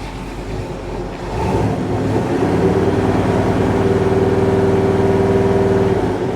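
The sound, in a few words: car engine running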